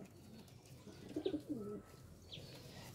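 Pet loft pigeons of napta, fulsira and madras breeds give a soft, low burbling coo in the middle, a couple of short rolling phrases close by over faint background hiss and a brief high chirp.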